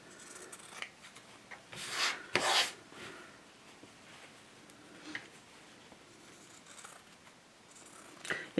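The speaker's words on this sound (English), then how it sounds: "Now we're going to cut the excess fabric away from the side seams. We're going to trim these corners." Scissors snip through fabric corners and seam excess at close range. A couple of strong crisp cuts are separated by quieter rubbing and handling of the cloth, and a final snip comes at the end, with no talking.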